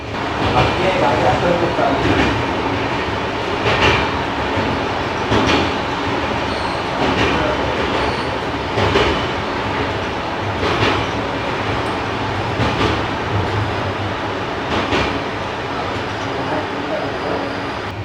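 The Deccan Queen express train, Pune to Mumbai, rumbles steadily along the rails with rhythmic clacking of wheels over track joints, loud and close, sustained for the whole stretch.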